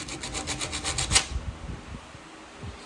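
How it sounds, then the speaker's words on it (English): Surface rust is scrubbed off the ignition coil of a vintage 1967 Montgomery Ward lawn tractor: about eight quick, rhythmic rasping strokes up close, followed by softer scattered rubbing and handling noises. "we're going to clean up the coil a little bit."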